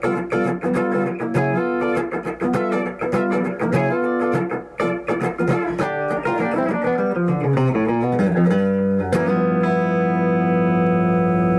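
An Eastman SB59 electric guitar on its bridge pickup plays a run of picked notes and chords with a bright, twangy tone, finishing on a sustained ringing chord.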